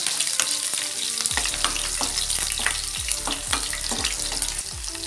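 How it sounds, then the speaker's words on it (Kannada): Curry leaves and garlic crackle in hot oil, starting with a sharp burst of spitting, then a busy, close sizzle punctuated by low stirring thumps. "ಕರಿಬೇವಿನ ಸೊಪ್ಪನ್ನ ಹಾಕ್ತಾಯಿದ್ದೀನಿ ಆಮೇಲೆ ಬೆಳ್ಳುಳ್ಳಿನ ಹಾಕೋಬೇಕು"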